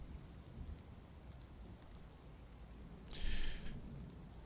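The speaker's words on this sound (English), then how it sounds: "Hear the metal clanking, the thunder and the rain." Steady rain patters in the Dwarf Fortress game world with a low rumble of thunder, and a brief brighter hiss swells near the end before settling back into the quiet downpour.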